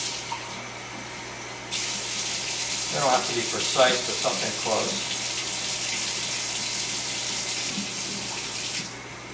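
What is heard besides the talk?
water running from a tap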